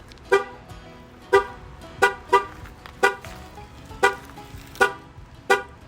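A GMC vehicle's horn gives short, sharp toots at irregular intervals during its light show, eight or so bright, loud honks standing out against quiet outdoor background.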